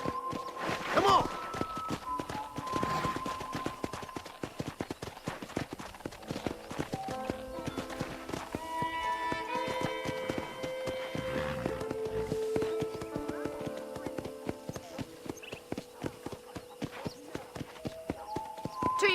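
Horse hooves clip-clop in a steady walking rhythm on a Western ranch in the video game Red Dead Redemption. Close and clear, the hoofbeats run alongside game music and a voice, with a brief whinny early on.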